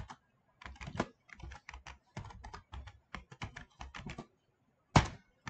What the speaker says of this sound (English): So, after that, we can type our title.